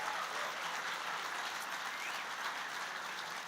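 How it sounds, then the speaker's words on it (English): An audience applauds fraternity brothers of Alpha Phi Alpha after they lead a song at a library grand opening ceremony, steady broadband clapping held at an even, moderate level and somewhat distant throughout. "Can we give them a round of applause?"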